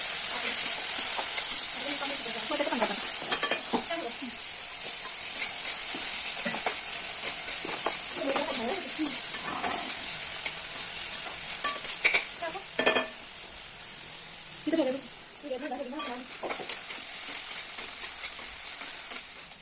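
Khichdi frying in a pan on a home gas stove, with green chilli added, stirred in bursts over a steady close sizzle and hiss; scraping strokes come and go through the pan noise, and a voice speaks faintly now and then.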